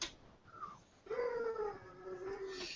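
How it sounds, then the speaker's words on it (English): A cat meowing nearby: two drawn-out, wavering meows, the second longer and sliding down in pitch, over a quiet room background. "I'm hearing a cat"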